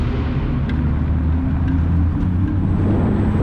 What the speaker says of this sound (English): It really makes a lot more noise than any other electric car that I've driven.